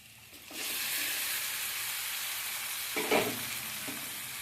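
Marinated chicken lands in a hot pan and a loud, steady sizzle swells up and holds, with a short burst of clatter from stirring partway through.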